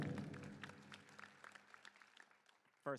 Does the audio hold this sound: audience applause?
yes